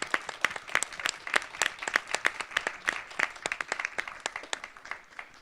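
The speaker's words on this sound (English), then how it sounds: "if you could please give another round of applause for all the Ignite presenters today" Applause for Ignite presenters at a conference session, a lively audience clapping with distinct sharp claps ringing out over a dense, steady crowd patter.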